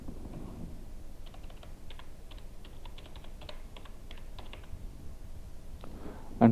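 Typing on a computer keyboard, a burst of quick close key clicks in an irregular rhythm over a quiet room hum, with no one speaking.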